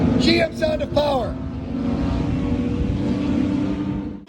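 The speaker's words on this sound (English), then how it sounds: "This V6 G6, of course, had the GM sound of power." A Pontiac G6 V6 race car's engine drones steadily and fairly close by, a sustained low rumble that follows a brief stretch of talking.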